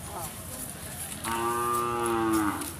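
A single cow gives one long, close mooing call at a historic cattle fair, the Gutte fair of 2025, heard over a low background murmur of the crowd.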